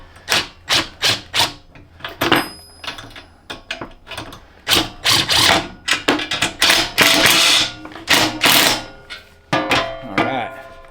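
Impact wrench tightening an axle bolt on a welding cart, sharp rapid hammering bursts repeated in short and long runs, close and loud with brief pauses between.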